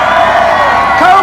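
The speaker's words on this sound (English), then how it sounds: "Viper, let me hear you" Crowd cheering and whooping at a supercar show to back the Dodge Viper, a dense, loud roar of many voices, with children shouting among it, sustained evenly without pause.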